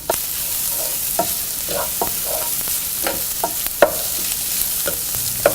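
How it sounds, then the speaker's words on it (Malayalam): Shrimp masala sizzles steadily in a pan while chilli, masala and pepper powders are sautéed into it, with a spoon scraping and stirring in regular strokes, close by and with no voices. "മസാലപ്പൊടി, കുരുമുളക് പൊടി എന്നിവയിട്ട് വഴറ്റുക."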